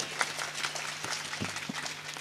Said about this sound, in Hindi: एक बार ताली बजा दिया जाएगा